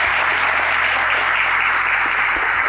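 Dense, steady applause from an audience at a weight-training course, a continuous close wash of clapping with no pauses.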